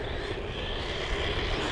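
RLAARLO ROG1 RC car run on 3S power at full throttle, a steady, loud, high-pitched motor whine that holds continuously without breaks.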